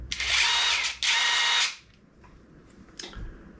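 A DeWalt DCF887 brushless impact driver fires in two loud, close bursts of about a second each, then quiet handling clicks and a brief tap follow.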